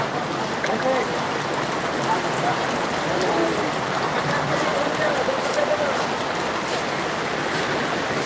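Heavy unseasonal rain pours onto a flooded road at the vegetable market in Boisar, Palghar, as a dense, steady hiss of water that holds even and close for the whole stretch.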